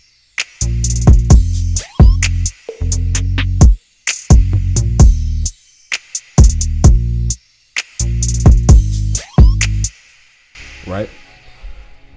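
An R&B drum beat with a rim shot loops through repeated bars of deep, booming low hits and sharp, bright clicks, pausing briefly between phrases, played alone without talk.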